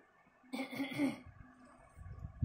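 A small child gives a short throat-clearing cough on request, a single brief burst followed by quiet breathing, close and soft.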